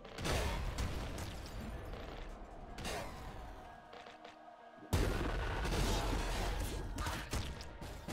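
Sticky launcher fire in Nuclear Throne: dense, loud game action with booming shots and mechanical clatter, a brief lull before another heavy burst, continuous and close.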